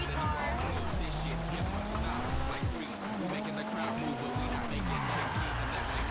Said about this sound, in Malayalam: nice drift